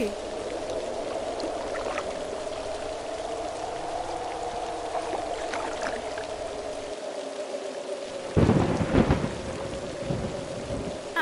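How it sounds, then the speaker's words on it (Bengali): Steady heavy rain pours in a cartoon scene set on a river during a storm. A low, rolling rumble of thunder swells near the end over the constant hiss of the downpour. "এদিকে বৃষ্টিও পড়ছে"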